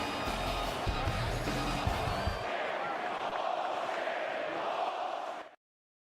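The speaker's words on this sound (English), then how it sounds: "Can hear the crowd chanting" Basketball crowd at the Miami Heat vs Boston Celtics Game 2, chanting in a dense, loud, continuous roar that fills the arena for about five seconds and then cuts off abruptly.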